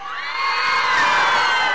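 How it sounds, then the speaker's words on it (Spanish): A crowd of women at a rally lets out one loud, sustained high-pitched shout that swells and holds for nearly two seconds, close and alone without speech. "Yo quiero ver, yo quiero escuchar a las mujeres un grito bien fuerte por el no"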